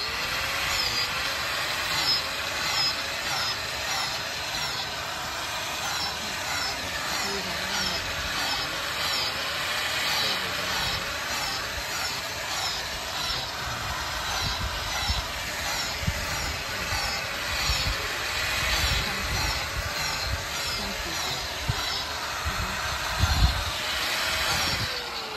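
A power drill grinds steadily into a log for a long stretch, a continuous buzzing whine with small shifts in pitch and pressure.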